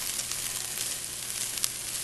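Onions caramelizing in a hot pan give a steady, close sizzle with fine crackling throughout and one brief sharper pop, alone with no talk.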